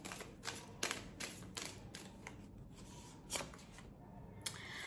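Tarot cards being handled and drawn from a deck, soft irregular shuffling and flicking sounds with a few sharper snaps, close and quiet, with no talk over them.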